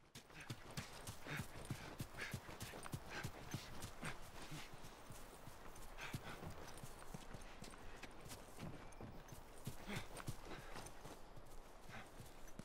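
Horse hooves clip-clop steadily throughout in The Last of Us gameplay, a continuous rapid drumming of gallop beats at moderate loudness with occasional faint snorting over ambient game sound.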